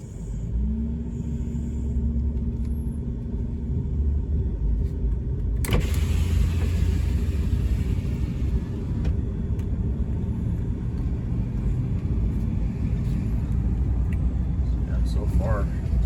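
A 2006 Ram 1500 Mega Cab pickup rolls along a street, its engine and road rumble heard as a steady loud drone from inside the cab, with a brief thump partway through.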